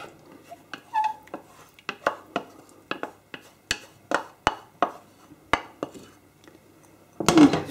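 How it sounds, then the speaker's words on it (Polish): Clanks and taps of a spoon against a pot as sour rye soup (żur) with cream is poured in and stirred, a dozen sharp metallic knocks in an irregular rhythm, close and fairly loud, with no talking. "i zaraz wszystko przeleję do garnka."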